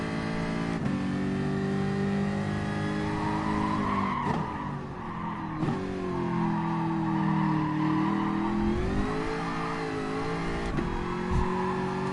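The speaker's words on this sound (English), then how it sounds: "Wheel spin much?" Race car in GT Sport spinning its wheels, a loud, continuous engine roar with rising and falling revs and tire squeal running throughout, no talking over it.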